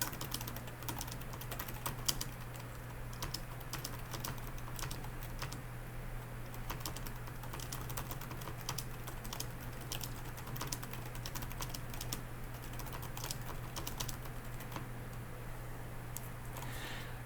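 Steady keyboard typing with quick, irregular clicks of keys, close and fairly quiet, continuing throughout with no talking.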